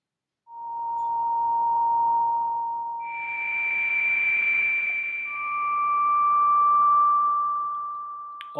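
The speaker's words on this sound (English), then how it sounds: "So we'll put some noise in there." Sustained synth pad from a u-he Tyrell N6 software synth with noise modulation added, three long gliding tones in sequence with a hissy, breathy wash beneath them, steady and moderately loud with no voices.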